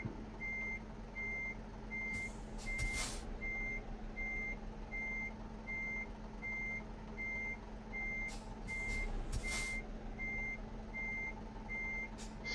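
A truck in Euro Truck Simulator 2 backs up to hook a trailer, its reversing beeper repeating steadily over a low idling engine, with a few sharp air-brake hisses.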